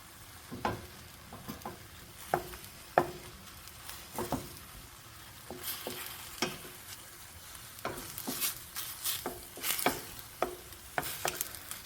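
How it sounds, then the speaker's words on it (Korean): Frozen mixed vegetables and beef stir-fried in a hot pan, with steady sizzling broken by repeated sharp scraping and stirring strokes at an irregular rhythm, close and fairly quiet, no talking. "그냥 양념만 넣고 볶으시면 됩니다"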